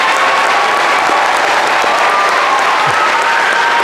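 Audience in a school gym applauding and cheering, a loud steady wash of clapping and crowd noise throughout, with no individual voices standing out.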